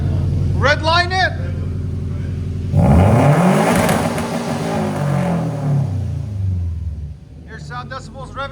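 A 2015 Subaru WRX STI fitted with downpipes and a Flowmaster Flow FX exhaust revs hard to redline, a loud rising roar that holds and then falls back, with people talking briefly before and after.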